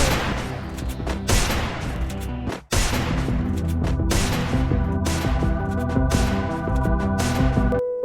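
Rapid gunfire from the mobile battle royale game Free Fire, dense continuous bursts of shots filling the clip, loud and close, with one brief pause near the middle before the firing resumes.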